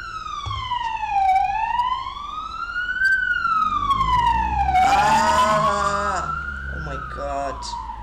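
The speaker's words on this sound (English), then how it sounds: "Ambulances are so loud." A loud wailing siren sweeps slowly up and down, close by, with a second siren overlapping partway through and traffic noise underneath.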